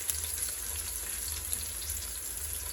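A medium onion sizzles in about eight spoonfuls of oil inside a pressure cooker, a continuous dense hiss of frying with faint crackles and a low steady hum beneath.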